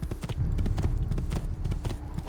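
Horse hooves clatter in a rapid, rhythmic galloping clip-clop in Assassin's Creed II, close and steady throughout the short stretch.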